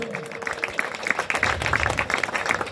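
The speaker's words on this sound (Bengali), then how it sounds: "হাততালি একটা জোরে রহিম ভাইয়ের জন্য" Applause for the man of the series at a local cricket trophy presentation in Milan More, a steady crowd clapping close by for under three seconds with some voices mixed in.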